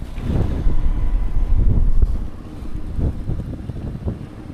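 Strong wind buffets the microphone outdoors in snow-covered mountains, a loud, low, rumbling roar that swells and eases in gusts throughout, with no voices.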